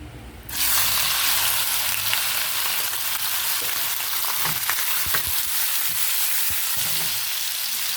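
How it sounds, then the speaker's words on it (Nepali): Loud, steady sizzling of meat frying in hot oil starts abruptly after a brief quiet moment and continues with occasional pops and crackles. "अब यसमा म मासु हाल्छु।"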